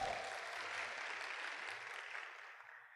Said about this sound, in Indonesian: mohon aplaus untuk kita semua